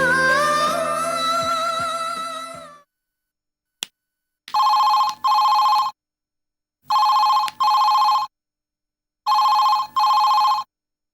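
A telephone rings in three evenly spaced double bursts of bright electronic trilling, each pair separated by silence, following a brief stretch of louder background sound and a single sharp click.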